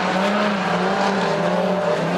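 Loud, continuous roar of street stock race car engines on a track, a steady high-revving drone with several cars blending together, no voices.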